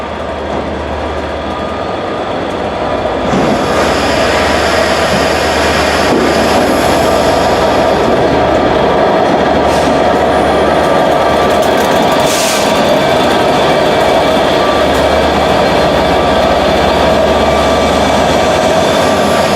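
An Arriva Trains Wales service to Cardiff Central, hauled by locomotive 67016, pulls out of Shrewsbury with a loud, continuous engine roar and rumble heard from on board, steady throughout with a few sharp squeals.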